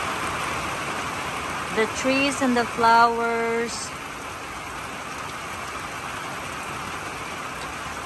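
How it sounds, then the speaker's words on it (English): Steady heavy rain hisses throughout, a dense broadband wash, while a voice speaks briefly near the middle. "It's pouring rain."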